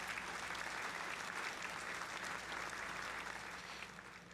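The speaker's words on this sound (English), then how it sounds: "Give him a round of applause." An audience gives a sustained round of applause, a dense continuous patter of many hands that stays even before tapering slightly at the end, heard faintly at low level.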